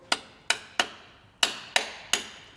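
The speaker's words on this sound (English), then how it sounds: "So now I have my punch and a small brass hammer." A small brass hammer strikes a metal punch into an oil filter six times, sharp close taps in an irregular rhythm, each ringing briefly before fading, with no talking.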